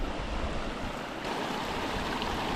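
Fresh water flowing in a stream on a coffee estate, a steady broad rushing wash, close and continuous with no voices.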